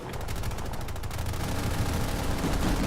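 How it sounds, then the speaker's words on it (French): Sustained rapid gunfire in a first-person shooter game aimed at the player, a dense, loud, continuous rattle of shots with no pauses. "J'ai un truc qui me tire dessus."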